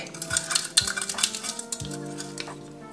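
Utensil stirring a thick, viscous bath mixture containing carrageenan in a bowl, giving close scraping, clinking and sloshing sounds with a faint hum behind.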